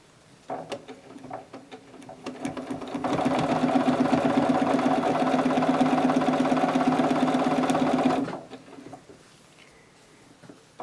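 A home sewing machine without a stitch regulator runs steadily for about five seconds during free motion quilting through fabric, with a dense, even motor whir and needle chatter. Short starts and stops come before and after the main run.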